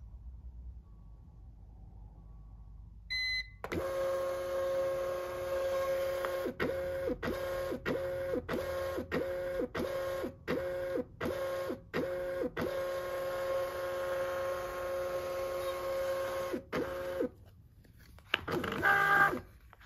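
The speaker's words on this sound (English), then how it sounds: "hold the feeder button down until you hear a beep" A beep, then a MUNBYN thermal label printer whirs with a steady tone while calibrating, feeding labels in a rapid series of short stop-start pulses before falling quiet.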